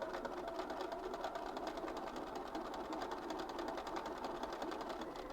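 A sewing machine stitches a quilt in a zigzag pattern, a steady fast mechanical whirr with a rapid even needle rhythm that runs without pause at moderate loudness.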